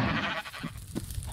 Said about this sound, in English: Is it a baby sheep? Brown sheep.